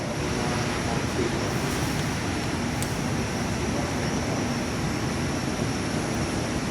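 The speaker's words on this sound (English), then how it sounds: "there's a Qantas F100 taxiing out of the Cobham's terminal" Qantas Fokker 100 airliner taxiing out at Perth airport, a steady broadband engine roar and rumble heard from an indoor viewing platform, constant and moderately loud throughout.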